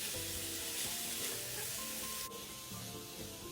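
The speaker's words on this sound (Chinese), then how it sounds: "炉转高火，将萝卜与其他食材一起快炒。" Shredded white radish stir-fried over high heat with minced pork in a hot wok, a steady dense sizzle with scraping and stirring clatter throughout, no talk.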